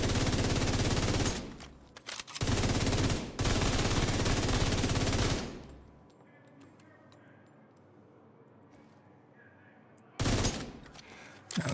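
Loud, dense bursts of gunfire in a video game fill the first half, then a long quieter stretch follows before another sharp burst near the end; no speech is clear.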